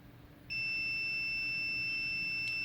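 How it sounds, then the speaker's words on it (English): Multimeter continuity tester beeping on a shorted capacitor on an iPhone XS Max logic board: a steady, high, continuous electronic tone starts abruptly and holds for about two seconds, clear and close with no talking. "Let's measure it with the multimeter."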